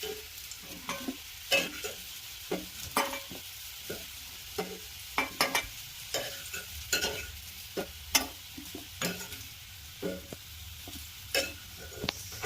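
Vegetables frying in a pan, a soft steady sizzle broken by frequent clicks and scrapes of stirring, close up with no voices.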